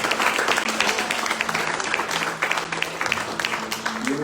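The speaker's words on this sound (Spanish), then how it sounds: "Dale un aplauso al Señor" A church congregation claps during a Spanish-language worship service, producing steady applause at moderate level with voices and a faint sustained musical tone underneath.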